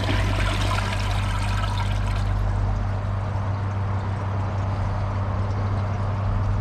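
A Glacier Bay PowerFlush toilet gives a second flush after its tank refills, with a loud steady rush of water that slowly fades and thins into a trickle, heard close up and alone.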